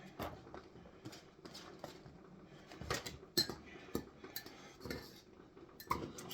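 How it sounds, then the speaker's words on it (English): Mushrooms and onions are stirred with butter in a pan, with soft intermittent scrapes and clinks of a utensil against the cookware close by and no talking. "Stir them up a little bit. Get them mixed with some butter."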